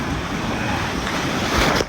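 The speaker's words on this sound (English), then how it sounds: "some pretty good waves today for boogie boarding" Steady broadband rush of ocean waves breaking on a shallow sandy beach in Maui, continuous surf with a slight swell near the end and some wind noise.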